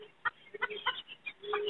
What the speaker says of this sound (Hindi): ये सिल्की की बड़ी फीमेल है